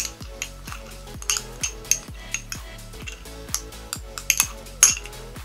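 A spoon scrapes and clinks against a bowl while green tea is mixed with honey into a thick face-mask paste. The taps come in a steady rhythm of roughly two per second, close up and alone.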